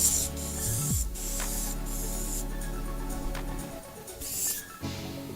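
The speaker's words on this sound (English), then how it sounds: "We're going to spray the opposite way onto the membrane." Clear contact adhesive hisses from a spray can onto an EPDM roofing membrane in a steady, close spray lasting several seconds, with a short break and a few brief bursts near the end, no talking.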